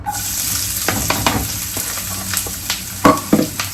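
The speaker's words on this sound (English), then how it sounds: "let's fry off the onions" Onions frying in a pan for refried beans, a steady close sizzle broken by scraping stir strokes, with a few louder clatters near the end; no talking.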